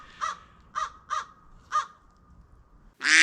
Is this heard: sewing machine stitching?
no